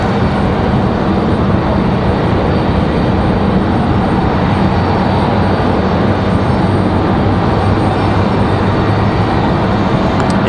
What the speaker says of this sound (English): American Airlines 11:59 coming in from Charlotte